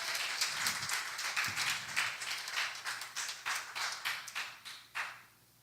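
Scattered applause from a church congregation, a steady patter of many hands clapping for several seconds before tapering off to quiet.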